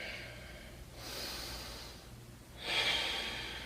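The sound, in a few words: deep breathing during a yoga pose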